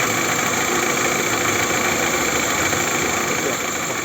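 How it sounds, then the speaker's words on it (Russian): A Toyota Camry engine idles cold with a steady, dense mechanical clatter and a faint rhythmic knock from the balance shaft, heard close up and unbroken. "Видимо, балансировочный вал тоже стучит."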